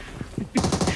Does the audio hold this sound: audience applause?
no